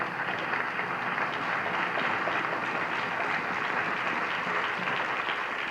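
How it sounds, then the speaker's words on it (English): Audience applause at a high school spring instrumental concert, a dense, steady clapping from a full room that holds evenly throughout without pause. "please feel free to clap for every one of them"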